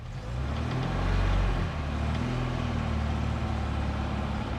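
A 50-year-old Soviet Moskvitch 412 engine drones steadily from inside the car as it pulls away, with a low rumble that swells briefly while accelerating and then settles into an even hum.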